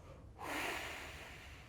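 During a 4-7-8 relaxation breathing exercise, one long, close exhale rushes out steadily after a brief quiet start and slowly fades, with no speech over it.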